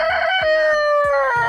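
A big rooster in a chicken coop out in the pasture crows loudly and close by, one long drawn-out cock-a-doodle-doo with a few soft clucks around it.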